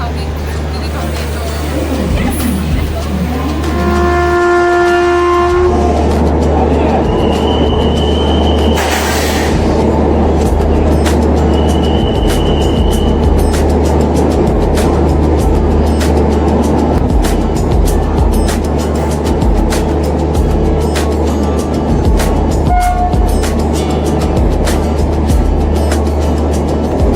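A Garib Rath passenger train rolling along the tracks, a loud steady low rumble with a continuous rattle and regular clicks of the wheels over rail joints, with a few brief tonal squeals early on.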